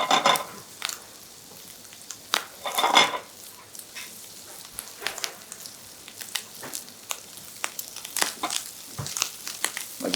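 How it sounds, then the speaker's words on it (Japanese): A chef stir-fries food in a pan over high heat for a curry-flavoured stuffed potato dish. Crisp scraping strokes and clinks come at an irregular pace over a soft sizzle, close and without talk. "今強火でやってます。 ここはよく炒めるので強火でもいいと思います。"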